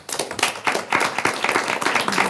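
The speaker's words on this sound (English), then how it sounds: "they definitely deserve a round of applause." Applause at a county clerk's meeting, a room of people clapping steadily at moderate loudness from start to finish, with no talk over it.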